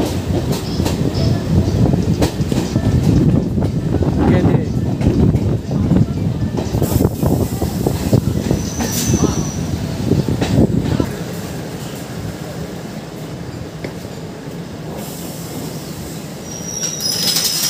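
A Ranaghat–Gede local train in India running on the rails, with loud continuous rumble and clickety-clack, wheel squeal and rattling carriage noise, easing to a quieter steady roll in the latter part.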